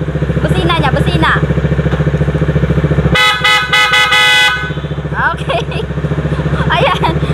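A newly installed horn on a Bajaj Dominar 400 motorcycle blasts in a loud, close burst of rapid stuttering honks over the bike's idling engine, with someone speaking nearby before and after.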